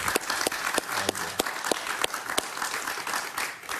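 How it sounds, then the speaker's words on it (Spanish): A television talk-show studio audience applauds the visiting Venezuelan opposition deputy Julio Montoya with a moderate, fairly soft round of steady clapping and sharp individual claps standing out, with a faint voice briefly underneath. "Un aplauso para él, por favor"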